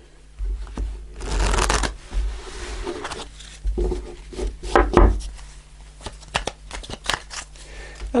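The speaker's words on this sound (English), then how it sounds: "Let me just do one more shuffle." Close-up rustling and riffling of a deck of tarot cards being shuffled, in bursts of papery flutters and soft taps, with no talking.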